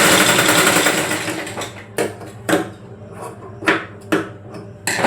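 A sewing machine runs continuously while stitching a cut fabric strip, then slows into several short, separate stitching bursts with brief pauses between them, close and clear.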